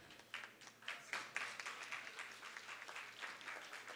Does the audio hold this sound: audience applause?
yes